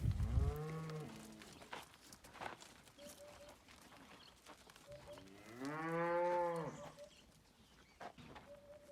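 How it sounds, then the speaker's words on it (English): Cattle moo twice, long and low, nearby on a farm as they are brought into a kraal, with quiet shuffling and faint clatter between the calls. "The cattle are brought into the kraal."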